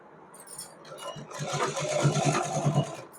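A home sewing machine stitches a small doll's dress (choli) for a Laddu Gopal idol, giving a steady rapid mechanical whir with regular needle thumps that swell to a continuous run, close and clear.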